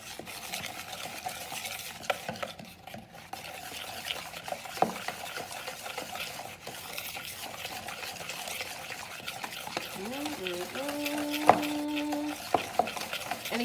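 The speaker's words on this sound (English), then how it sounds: "Now that we have that, just whisk it together." A whisk stirs milk and powdered sugar into icing for homemade donuts. Close, continuous scraping and clinking in a bowl goes on at a steady pace, with a few brief tonal beeps near the end and no talking.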